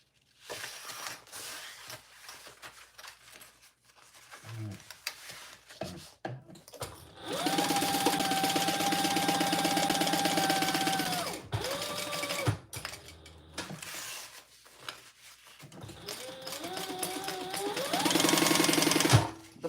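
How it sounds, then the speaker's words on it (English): A sewing machine stitches around three pocket edges on a Haralson bag. It runs in several sustained bursts of steady motor whir with short pauses between, close and fairly loud. "we're going to sew around all 3 edges"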